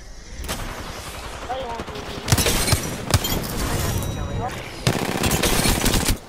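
Rapid shotgun blasts from a Mastiff in an online battle royale shooter, several loud sharp bursts at irregular intervals over steady in-game noise, with someone talking during the fighting.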